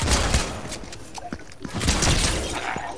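Rapid bursts of video game gunfire crack and rattle in quick succession, loud and dense, with clattering impacts between shots and no clear talk over them.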